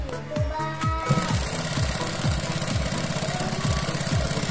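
A sewing machine stitches a bed sheet of size 180x200, its needle hammering in a steady, fast mechanical rhythm that runs continuously and close by with no talking.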